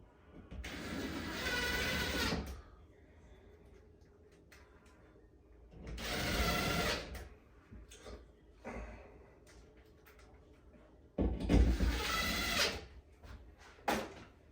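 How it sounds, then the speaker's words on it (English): A power drill drives screws back into a PS5 wall mount in three loud whirring bursts, each a couple of seconds long, with quiet pauses and small clicks and handling noises in between. "Screw everything back in."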